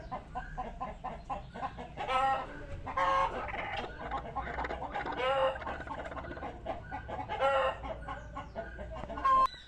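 Broody hen being settled onto a nest of guinea fowl and free-range chicken eggs gives repeated close, soft clucks and short calls, mixed with low bird chatter from the coop.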